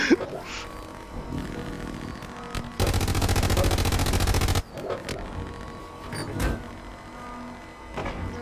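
A burst of rapid, steady automatic fire from a tank's machine gun in the video game Hell Let Loose, lasting about two seconds, set among quieter scattered mechanical clunks and thuds.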